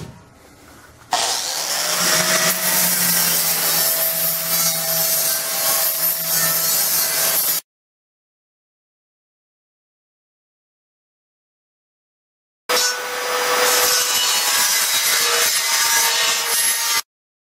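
An electric die grinder cuts through metal for a Darth Vader–themed fire pit, a loud continuous grinding hiss with a steady whine, running about six seconds, stopping for several seconds of silence, then starting up again.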